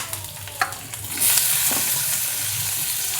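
Onion, tomato and garlic sautéing in a pan for chutney, a close hiss that swells louder partway through, with a few light knocks of the spoon and a faint low hum beneath.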